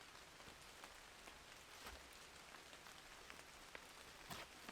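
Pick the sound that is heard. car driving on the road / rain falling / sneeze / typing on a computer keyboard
rain falling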